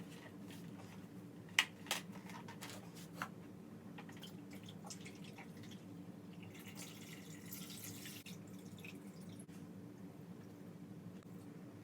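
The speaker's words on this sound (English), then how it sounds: "I pour it from the filter so it's just a smooth flow down into the tank" Water poured from a filter in a smooth flow into a 5-gallon betta fish tank, a faint, steady trickle with a few small splashes and drips near the start.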